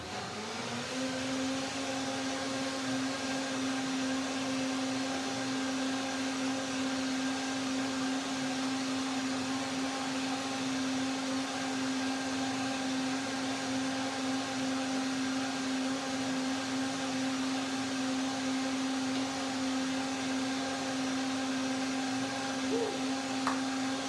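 Blender running continuously while blending a rosemary, dill and macadamia mayonnaise, a steady motor whine with a constant hum held for about twenty-four seconds, moderately loud and alone with no talking.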